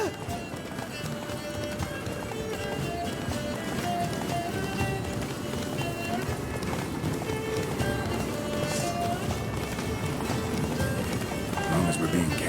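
Steady hoofbeats of the horse Roach galloping in The Witcher 3, a continuous rhythmic clip-clop with wind behind it and voices talking over the run.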